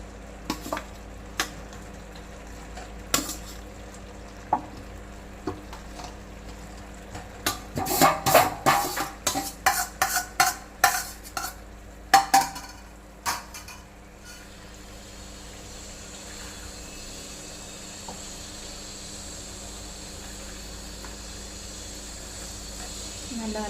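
Fried chicken is stirred into thick biryani gravy in a pan, giving a cluster of close scraping clinks over steady low sizzling, then settling into quiet simmering hiss.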